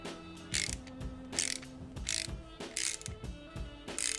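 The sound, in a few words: socket ratchet cranking to press in a lever bushing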